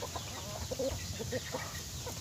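Native Thai backyard chickens cluck softly in short scattered bursts over a steady background hum, fairly faint and at a moderate distance.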